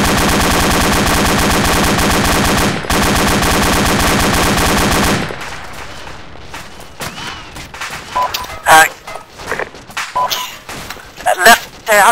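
A medium machine gun fires in the military video game Arma: a loud, unbroken rapid burst for about five seconds, followed by scattered distant shots and impacts while voices talk over radio.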